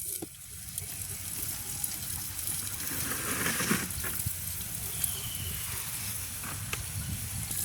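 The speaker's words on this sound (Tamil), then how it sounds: "முழு வெங்காயம் நல்லா வதங்க கொஞ்சம் நேரம் நாங்கள் இப்போ மூடி விடுவோம்" Whole onions sauté in a covered pan on a village stove, giving a steady soft sizzle and hiss with occasional faint pops.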